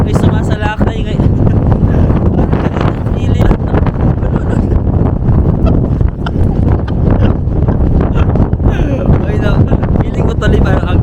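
Strong typhoon wind roaring across the microphone in Japan, a loud, continuous buffeting rush with gusty swells throughout, and a voice talking faintly beneath the storm noise.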